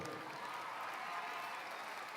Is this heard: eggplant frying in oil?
no